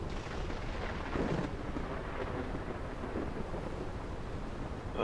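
Deep rolling thunder from a lightning strike in the Dig Boys! Dig for the Money multiplayer game rumbles over steady rain-like noise, loud and sustained with a swell partway through.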